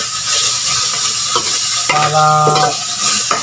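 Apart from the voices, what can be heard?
dried fish frying and being stirred in a pan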